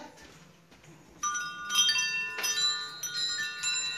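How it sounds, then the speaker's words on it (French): Small bell wind chimes ring softly nearby, their bright metallic tinkling layered into sustained shimmering tones that linger and overlap for several seconds. "Ici, on a des carillons à clochette."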